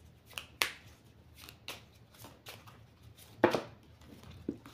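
Cards are shuffled and cut by hand in sharp, separate riffles and slaps that come every second or so, near and fairly quiet, with no voices.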